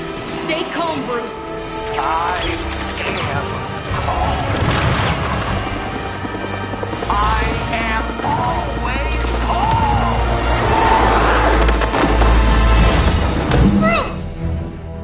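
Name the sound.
missile explosions and gunfire from Hydra gunships, video game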